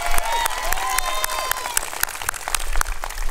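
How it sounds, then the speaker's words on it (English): Audience applause at a California AmeriCorps anniversary event, a crowd clapping steadily with sharp individual claps standing out and faint cheering, close and continuous. "Give her a round of applause."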